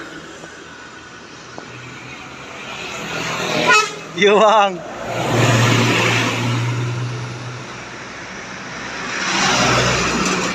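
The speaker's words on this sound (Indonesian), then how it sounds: "Ini bus Pekanbaru ini." A bus bound for Pekanbaru passing on a road toward Medan, sounding a warbling musical horn close by, then a loud engine rush sweeping past and fading, followed by another approaching vehicle; someone speaks briefly.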